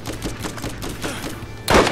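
Enemy gunfire in Borderlands: a steady rattle of rapid shots runs through the clip, ending in a louder, denser burst near the end.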